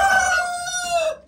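A rooster on a farm crows once, loud and close, a single drawn-out cock-a-doodle-doo that falls slightly in pitch before cutting off.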